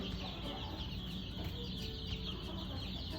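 Chickens clucking inside a farm chicken coop, a busy, steady chatter of many birds mixed together, heard faintly and continuously with no voices over it.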